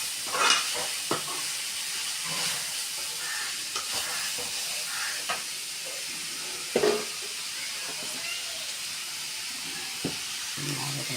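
Grated carrot and other vegetables sautéing in a pan for Maggie noodles, a steady sizzle and hiss broken by occasional stirring scrapes and clinks, with no talking.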